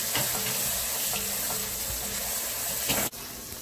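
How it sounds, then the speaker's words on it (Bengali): Beef liver frying with salt, onion and chili powder in a pan, a dense continuous sizzle close by that cuts off abruptly near the end. "এটা একটু আগে ভুনে নেব"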